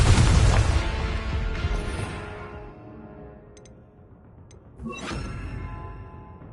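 A Confringo fire spell in the game Hogwarts Legacy erupts in a loud fiery blast that slowly fades over several seconds, followed by a faint chime and a second sharper whooshing burst near the end.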